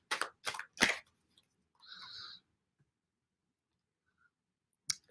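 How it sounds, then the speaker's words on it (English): A deck of oracle cards is shuffled at close range in a quiet room: three quick papery riffles, a short soft slide, then silence and one last flick. "These cards are not the easiest to shuffle."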